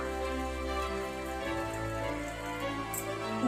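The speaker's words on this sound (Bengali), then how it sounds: "বাইরে এখন বৃষ্টি পড়ছে আর প্রচন্ড জোরো হাওয়া" Rain falls steadily outside in strong wind, a dense continuous wash of drops that stays close and fairly loud throughout, with no talk over it.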